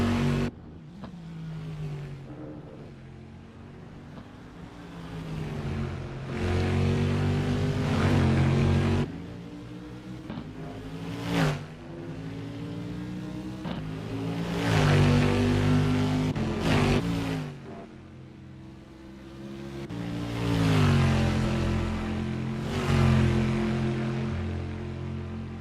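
Race cars roaring around the Nürburgring during a cup race, engines rising and falling through gear changes as several cars pass in waves, loud and close with continuous revving.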